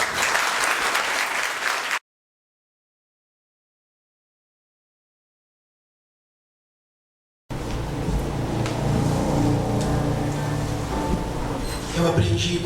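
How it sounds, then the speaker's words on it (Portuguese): A Portuguese-speaking crowd at a public lecture applauds in a dense, even roar, broken by a stretch of dead silence before the clapping resumes just as full. "todas as palmas a gente sempre direciona a Jesus."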